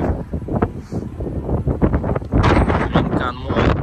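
Wind buffeting a microphone in a shopping center parking lot on a warm December day, loud low rumbling gusts that swell and fade, with someone talking over them.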